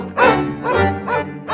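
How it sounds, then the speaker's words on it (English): A dog barks three times in quick succession, loud and close, each bark drawn out with a slightly whining, yelping edge and no talking over it. "what if the dog was noisy?"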